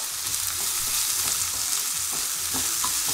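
A mushroom and mascarpone risotto simmers on low heat in a pan, giving a steady, close bubbling sizzle with faint stirring scrapes throughout, and no voices.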